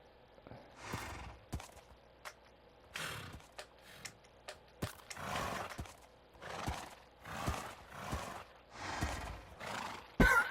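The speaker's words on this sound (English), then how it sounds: "Spawn a horse." A horse spawned in a video game neighs and whinnies repeatedly in loud, breathy bursts, with clip-clop hoof sounds between calls and no talking.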